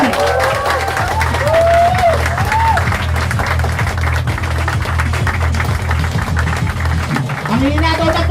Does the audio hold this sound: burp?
no